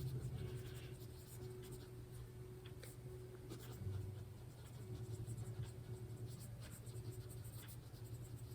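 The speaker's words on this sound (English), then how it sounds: "I need to actually write that in." Pen scratching on paper in a quiet room, a steady soft scribbling texture that runs throughout at low level over a faint constant hum.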